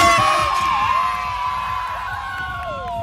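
An audience at a circus-style show shouts and cheers together in a sustained, loud crowd roar, with bright tonal sounds running through it and a brief louder burst at the very end.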